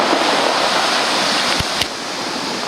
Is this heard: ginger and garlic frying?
no